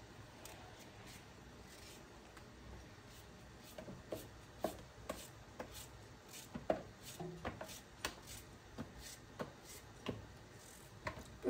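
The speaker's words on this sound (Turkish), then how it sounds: "Böyle kabağımı doğramaya devam ediyorum." A knife chops zucchini on a cutting board in a rural home kitchen, making quiet, irregular taps and clicks spaced through the clip over a low room background, with no talking.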